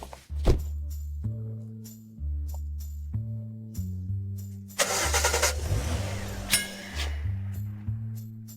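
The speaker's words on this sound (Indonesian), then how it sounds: "Mesinnya menyala. Berhasil menyala." A classic car engine cranks in a series of rhythmic starter pulses, then catches and fires up loudly with a burst of revving, followed by more uneven cranking and sputtering close by.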